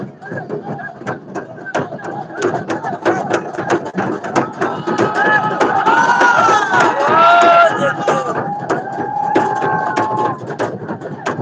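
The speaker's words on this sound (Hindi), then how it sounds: "देखिए भाई मिलान हो रहा है, बहुत भीड़ है।" A large, dense crowd gathered at a live event in India, a loud continuous din of many overlapping voices and shouts, with rapid clapping or clattering beats and some raised cries standing out in the middle.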